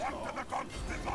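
Dogs in a Total War: Warhammer battle give a run of barks and yelping whimpers, several overlapping calls at close range against a steady game background.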